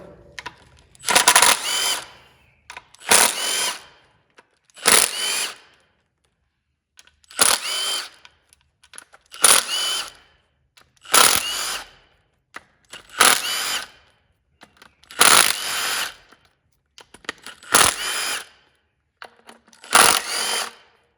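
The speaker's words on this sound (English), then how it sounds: "let's go ahead and remove all the 10mm bolts all the way around" Power tool spinning out 10mm bolts around a GM 2.0, 2.2 or 2.4 engine timing cover, about ten short whirring bursts of one to two seconds each, separated by brief pauses, close and loud with no talk.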